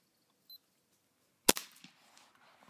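A single sharp crack from an air gun firing a destroyer pellet, loud and close, with a brief rattling tail after the shot and a faint click just before in an otherwise quiet setting.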